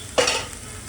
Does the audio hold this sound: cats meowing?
no